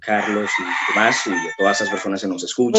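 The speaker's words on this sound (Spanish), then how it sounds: "hay un gallo ahí que ha perdido la noción del tiempo" A rooster crows repeatedly in the background of a nighttime news broadcast while someone speaks over it. The calls are loud and close, mixed in with the ongoing talk.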